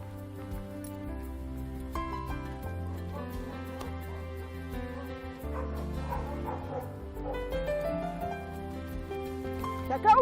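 A dog barks several times during an obedience-training session, with yips and whimpers close by over a steady background of music.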